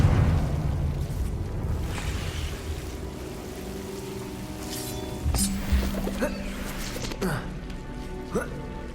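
A Confringo fire spell in Hogwarts Legacy, a video game, detonates in a fiery explosion, a heavy rumbling blast at the start that decays into crackling game effects and music.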